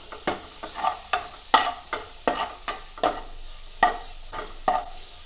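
Chopped tomato added to golden-browned onions in a pan for palak paneer, sizzling steadily while a spoon stirs in regular scraping strokes, close and moderately quiet with no talk.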